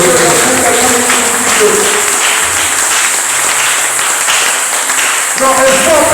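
Church congregation applauding to acclaim the Lord, a steady, loud wash of clapping from a large crowd, with voices and music underneath throughout.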